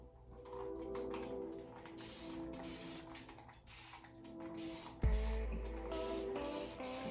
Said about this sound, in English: It is getting a little dry, so I'm going to spray some water in it first.